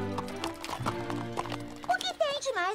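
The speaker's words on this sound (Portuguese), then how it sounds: "Numa dupla de cavalos andando juntos lado a lado" Horses walk side by side in an animated show, their hooves clip-clopping in a loose, close rhythm beneath spoken dialogue, followed near the end by a wavering, whinny-like call.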